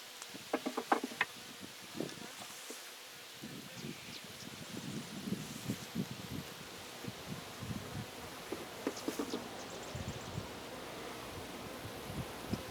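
Honeybees buzzing around an opened hive during a queen check, a faint, steady outdoor hum with rustling and handling knocks.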